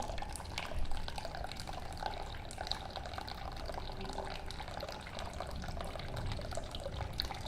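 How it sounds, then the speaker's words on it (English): Steady trickle and splash of water draining from a CO2 fractional laser into a bucket, a continuous wet rushing with small drips, fairly quiet and close. "The emptying of the water is almost done."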